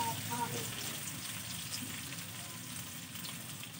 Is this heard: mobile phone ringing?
no